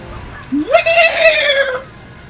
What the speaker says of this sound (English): these birds are the bane of my existence. Not because they're anything annoying, but because of the sound they make.